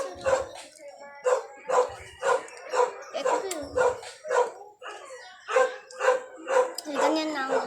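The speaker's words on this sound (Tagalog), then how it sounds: "ipapakita ko sa inyo yung mga aso." Several dogs bark repeatedly in a steady run of loud, close barks and yips, with some whimpering mixed in and a person talking intermittently.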